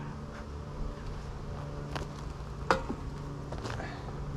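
Honeybees hum in a dense, steady drone throughout an open hive during an early-season inspection, with a few brief knocks and rustles breaking through near the middle.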